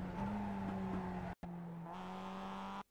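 A Mazda MX-5 race car in the iRacing game at Jefferson Circuit holds a steady engine drone with a clear tonal whine and a brief cut near the middle, then continues until it stops abruptly.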